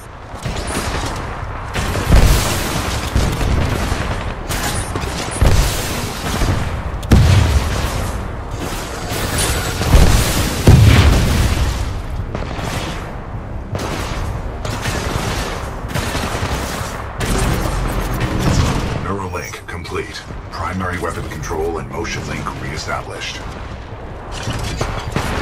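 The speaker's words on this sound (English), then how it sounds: "This shoulder-mounted rocket pod will lock onto multiple enemy targets." Rapid volleys of shoulder-mounted rocket pod fire from a Titanfall 2 Acolyte pod ring out with sharp bursts, booms and mechanical clatter, loud and repeated over a roughly 25-second stretch while a voice talks over the action.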